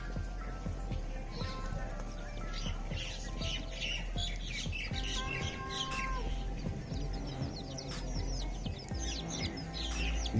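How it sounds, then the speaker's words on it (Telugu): Country chicken chicks cheep in a busy outdoor yard, high thin peeps repeating throughout over constant background noise, with occasional clucking and squawks from adult hens nearby. "గీయే నాటుకోడి పిల్లలు."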